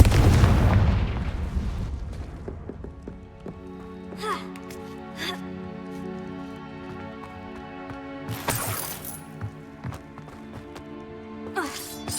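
Explosive Confringo spell blasts in the video game Hogwarts Legacy: a heavy boom opens the clip, and sharper bursts follow at intervals over a sustained tonal game score.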